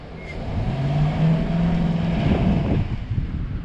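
A truck engine at a lawn care shop revs loud and close, a low rumbling drone that swells and holds for a few seconds, with no talking over it.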